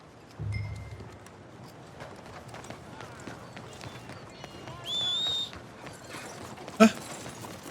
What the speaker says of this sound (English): O cavalo veio pra cá?